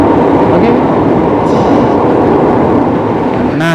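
A KRL commuter train on the Jogja–Solo line rumbles along in a steady, loud low roar, heard from beside the carriage door with faint clatter and a brief squeal near the end.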